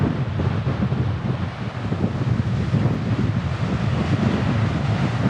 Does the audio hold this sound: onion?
no